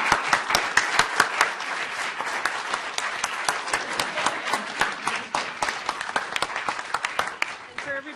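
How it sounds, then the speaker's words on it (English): Round after round of audience applause at the final round of a moot court advocacy competition, dense overlapping claps at an even, lively level that fade slightly near the end. "I just want to give them a round of applause"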